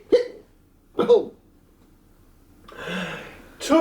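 A voice imitates a skeleton's hiccups: three short, loud, evenly spaced vocal hic sounds, separated by a brief breathy vocal noise, close to the listener.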